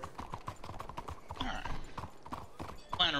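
Horse hooves clip-clopping at a steady walk in a video game, with a whinny near the end, partly under people talking.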